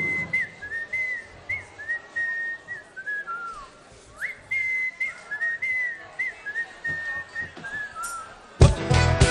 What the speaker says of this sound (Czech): náš pískající bubeník, výborně píská opravdu